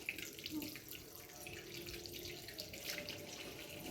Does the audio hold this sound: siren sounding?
no